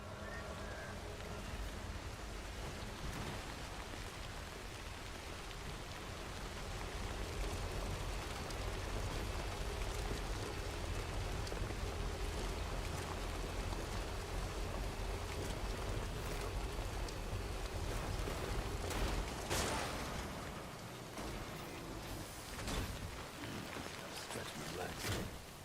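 Steady rain hiss in the video game Death Stranding, a constant wash of falling water that holds fairly loud across the whole stretch, with ambient game tones underneath.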